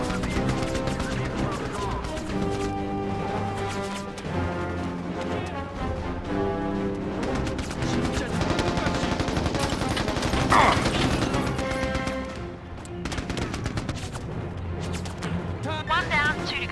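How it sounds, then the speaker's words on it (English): Machine guns fire in Mercenaries: Playground of Destruction on Xbox One. Bursts of gunfire and explosions sound loud and dense under game music and a narrator's voice. "but those machine guns could be dangerous."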